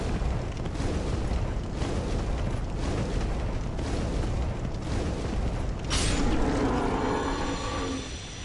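Firebomb flames crackle and roar steadily in Dark Souls, a dense rumbling burn with a brighter flare near the end, loud and continuous with no voices.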